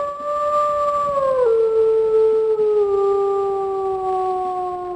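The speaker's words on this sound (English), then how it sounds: "If we listen to her howls here." A video game wolf character gives a long, drawn-out howl that slides down in pitch partway through and holds steady, a clear, loud, sustained call heard alone without talk.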